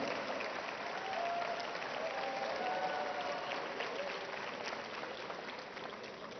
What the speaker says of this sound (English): A round of applause for our chief referee